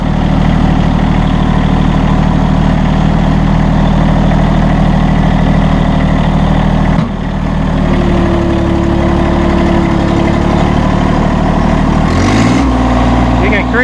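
Massey Ferguson GC1725M premium sub-compact tractor engine idling loud and steady up close, then a brief drop as the loader dumps, with a rising hydraulic whine and a sharper clatter near the end.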